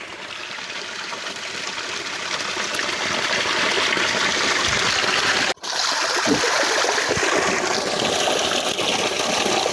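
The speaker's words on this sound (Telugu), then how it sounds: "అక్కడ నుంచి వాటర్ ఇక్కడ నుంచి ఫ్లో అవ్వడానికి" Water pours steadily at a natural spring in the Chilakalagutta area, a loud, continuous rushing flow with a brief dropout midway and no voices.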